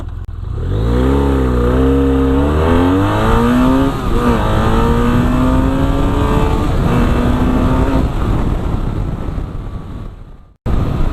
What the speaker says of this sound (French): je vais en profiter pour faire un petit départ arrêté 0 à 100 en mode sport